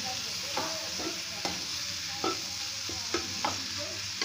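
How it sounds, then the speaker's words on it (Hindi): Chopped tomatoes fry with onion masala in a pan: a steady close sizzle runs throughout, broken by about eight sharp scraping stirs at irregular intervals, with no talking. "प्याज मसाला भून चुका डाल देते हैं टमाटर कटे हुए सारी थोड़ा सा टमाटर छोटा सा पकने देते हैं"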